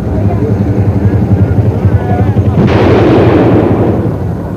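Artillery pieces open fire in a loud, close blast that gives way to a sustained rumbling roar, all under a heavy helicopter-like throb.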